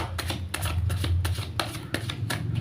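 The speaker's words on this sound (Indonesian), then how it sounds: "Saya shuffle terlebih dahulu." Close, continuous shuffling of a tarot deck before a Gemini reading: a rapid series of papery card slaps and riffles at a fairly even rhythm, with no talking.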